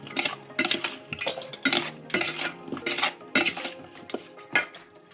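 Amla pickle ingredients with red chillies get mixed in a bowl, a spoon scraping and clinking against the sides in quick, uneven strokes, close and fairly quiet, with no talking.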